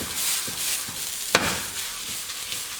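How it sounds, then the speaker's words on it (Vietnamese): Pork skin searing on a dry, oil-free hot pan for braised pork, a steady close sizzle with a few sharp crackles and pops. "chúng ta đặt cái miếng thịt, cái phần da lên cái mặt chảo nóng này, và chúng ta sẽ áp chảo cái phần da như thế này"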